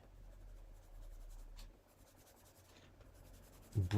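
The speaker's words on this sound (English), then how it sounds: "in here, I'm adding this colored pencil" Colored pencil scratching steadily across printable paper over dried Brilliance ink, a close, continuous soft rasp ending with a louder knock.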